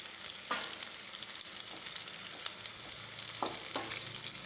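Cauliflower fries in a small amount of oil in a non-stick pan, a steady soft sizzle broken by a few brief scraping stirs as the pieces are moved around.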